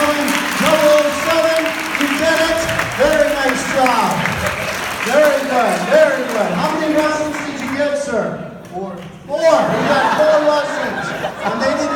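Applause and cheering from a crowd at a senior all-night party hypnosis show fill the room, loud and sustained, with chatter and laughter mixed in and a short lull near the end before the clapping surges again.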